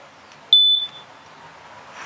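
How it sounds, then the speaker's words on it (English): A single sharp electronic beep from the built-in horn of an Unagi One E500 dual-motor electric scooter, high-pitched and loud, lasting about a quarter second before fading, with quiet background otherwise. "Scooter also has a built-in horn,"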